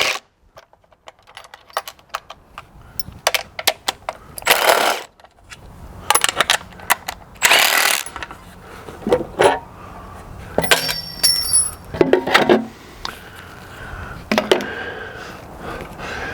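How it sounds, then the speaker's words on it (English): Valve covers are coming off a modified small block Chevy engine, with scattered metallic clinks, taps and ratcheting tool clicks in irregular bursts, plus a few louder bangs and rattles. Close up, with no talking. "let's get the valve covers off now"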